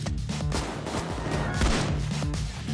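Rapid bursts of shotgun fire in the heist video game Payday 2, close and loud over a busy layer of game music and action, with repeated sharp blasts through the stretch.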